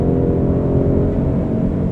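A 2022 Ford Mustang GT with a torque converter automatic transmission accelerates hard. The engine drone is loud and steady, with no audible breaks between gear changes, and no voices are heard.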